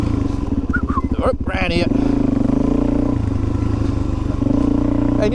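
A Suzuki DRZ400 motorcycle engine idling in a backyard just after a cold start with the choke pushed back in, a loud steady single-cylinder thrum that briefly stutters before settling, while someone says a few words.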